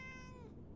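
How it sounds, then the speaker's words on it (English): A single short cat meow in the game Fallout 76, clear and fairly close, gliding downward in pitch over a low background hum. "That is a cat. Let me pet the cat."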